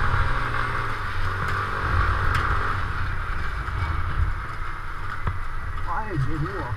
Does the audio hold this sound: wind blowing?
yes